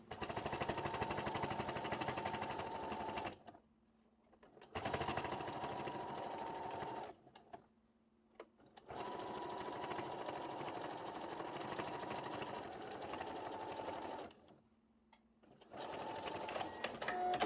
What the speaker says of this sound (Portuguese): Parada de agulha dentro do tecido e venho costurando.